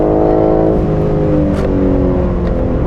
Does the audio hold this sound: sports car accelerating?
yes